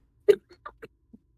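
A single sharp, close sneeze bursts out, followed by a few faint, brief breaths or mouth sounds in an otherwise quiet room.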